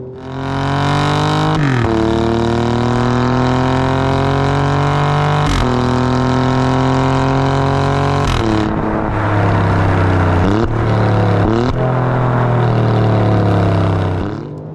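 An Alfa Romeo Giulia Quadrifoglio with a 505-horsepower engine revs and accelerates hard, loud and close, its roar climbing through the gears with sharp breaks at each shift.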